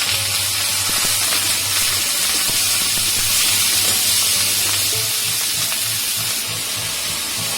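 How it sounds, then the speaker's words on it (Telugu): Onions, green chillies and curry leaves frying on a high flame for vegetable fried rice, a steady loud sizzle and hiss with occasional faint stirring, no voices. "దీన్ని హై ఫ్లేమ్ లో పెట్టుకొని దోరగా వేయించుకోండి"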